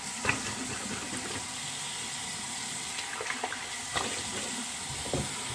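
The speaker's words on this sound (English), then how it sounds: "Let me get rinsed off." Tap water runs steadily into a sink while someone rinses off after a shave, a close, even splashing stream with a few small splashes and clinks and no talking.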